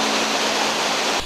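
Waterfall in Kuala Lumpur, a dense continuous roar of falling water heard close and loud, cutting off abruptly just before the end.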